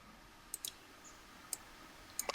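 Faint, sparse mouse clicks while duplicating blocks in App Inventor 2 software, a couple of isolated clicks followed by a quick cluster near the end, over quiet room hiss.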